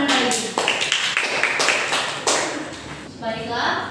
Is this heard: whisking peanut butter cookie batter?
no